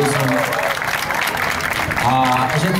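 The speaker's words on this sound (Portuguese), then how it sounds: "por favor, salva de palmas nossas dançarinas" Audience applause for the dancers of a Brazilian frevo group performance, a dense steady wash of clapping lasting the whole stretch, with a voice briefly heard over it near the end.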